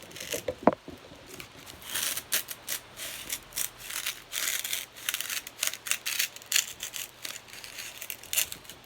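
A serrated blade saws by hand through a piece of craft foam for a Dollar Tree Christmas gnome, giving close, rhythmic scratchy strokes that tear and rasp in short bursts, after a single sharp knock near the start.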